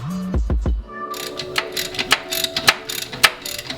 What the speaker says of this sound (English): Now you can go ahead and start tightening down all the transmission bolts and reattaching the transmission mount bolt.